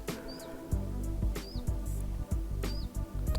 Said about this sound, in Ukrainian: Пташок чути.